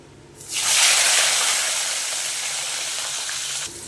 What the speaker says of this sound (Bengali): এবারে সিমগুলো ভেজে নেব